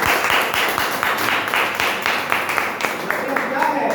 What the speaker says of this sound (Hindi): जबरदस्त ताली हो